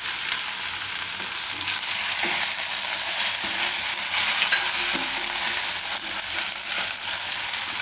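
Green pigeon pea filling for lilva paratha crackles continuously in hot oil, with repeated scraping and stirring strokes over the loud, even sizzle throughout; nobody speaks.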